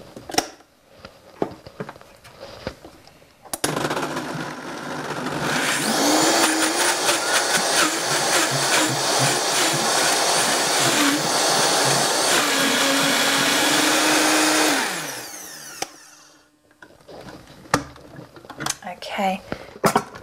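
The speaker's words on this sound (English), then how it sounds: "now I'm going to blend it in the high-speed blender until it's a smooth," A high-speed blender whirs loudly for about twelve seconds, blending a raw vegan white chocolate raspberry cheesecake filling, its pitch shifting as the mixture smooths, with clinks and talk before and after.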